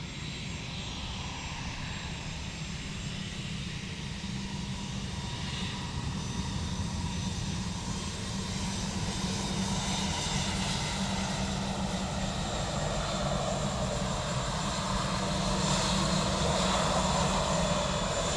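Aircraft on approach to Dublin Airport's runway 28 left, a broad continuous engine roar with a low rumble that swells slightly as it nears. No voices.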